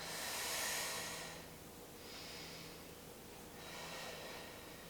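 Slow, audible breathing during a standing heel-to-bum leg stretch: a long exhale, then two softer breaths, each a soft airy rush close to the listener with no talking over it.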